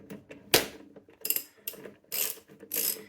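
A ratchet wrench with a 19-inch socket clicks in five short bursts while tightening the clutch on a JAWA 350 motorcycle, the first burst sharp and the rest raspier, close and alone with no talk.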